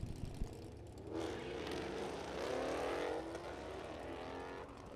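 A 1995 Camaro and a 2012 Challenger launch side by side at a drag strip, engines swelling into a loud, sustained roar that rises in pitch as the cars pull away, heard from the stands with no talk over it.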